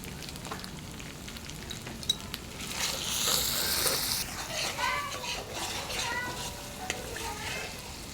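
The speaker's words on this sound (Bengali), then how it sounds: "ভালো করে কষানো হয়ে গেছে" Chili and turmeric powder sautéing in oil for aloo dum, a steady sizzle with scraping stir strokes and a brief surge of louder frying midway.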